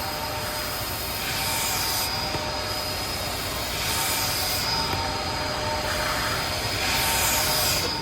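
A Bissell SpotClean Pro carpet cleaner sucks up dirt inside a car, a loud steady suction roar with a high whine that swells and dips in slow waves as the nozzle passes.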